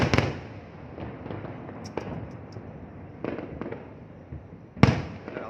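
Spring fireworks display bursting over an island, with repeated booms and crackling shots at mid distance, one sharp loud burst near the end, over a steady rumble of crowd ambience.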